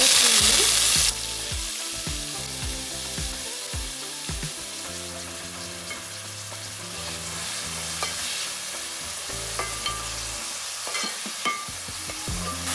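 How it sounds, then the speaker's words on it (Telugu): Onions fry in hot oil for a chicken curry, a steady loud sizzle with repeated stirring scrapes throughout, alone without talk. "ఆయిల్ అయితే హీట్ అయింది ఆనియన్స్ ఫ్రై"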